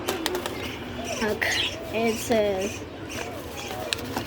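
Pet budgerigars chirp and warble in quick, close bursts with some wing fluttering, while a person speaks briefly over them.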